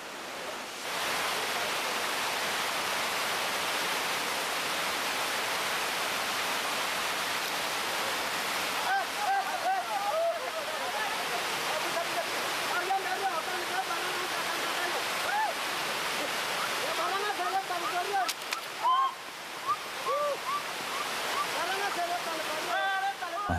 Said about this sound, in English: The next bridge was built over the lip of a waterfall which plunged 120 feet.